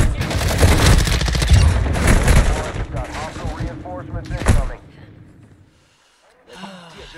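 Loud, close shotgun blasts and rapid gunfire from enemy bots in DMZ, a dense barrage over the first few seconds that fades to quiet, with gasps and a voice under the shooting.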